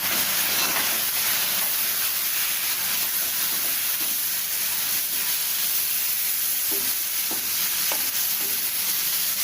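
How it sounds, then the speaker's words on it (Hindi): Green chillies for pickle frying in a pan, a loud continuous hissing sizzle throughout with faint stirring taps underneath and no speech. "देखिए हमारा भून गया है और अब हम इसमें मिर्चें डाल देंगे।"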